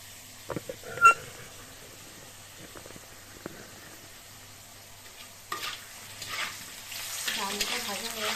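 Okra coated in gram flour fries in oil, a soft sizzle that starts faint with a few clicks and knocks, then swells into a fuller crackle toward the end.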